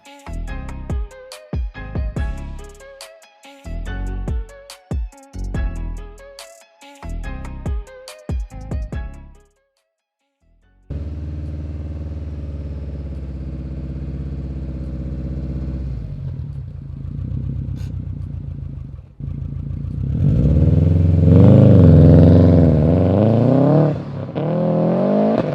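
A Subaru WRX STI with its starter cranking in pulsing bursts, then a pause, before the engine catches into a steady close idle that swells into a louder rev toward the end, no talking.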